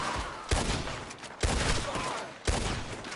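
Gunfire in Red Dead Redemption 2, with three loud, sharp shot bursts spaced about a second apart, each trailing into a ringing, rumbling decay.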